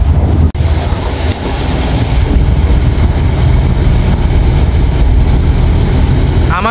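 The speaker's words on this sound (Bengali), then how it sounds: "প্রথম বিলাসবহুল লঞ্চ এমভি তরঙ্গ 7 ব্যাপক গতিতে এগিয়ে আসছে।" Passenger launch MV Taranga 7 speeding closer on a river near Postogola Bridge, a steady loud rush of engine and water churn mixed with heavy wind buffeting across the whole stretch.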